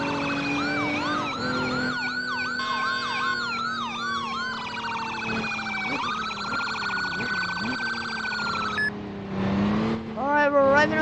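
Police car sirens in a video game responding to a hospital raid: several overlapping wailing and yelping sirens, loud and continuous, shifting in pitch with quick warbles toward the end.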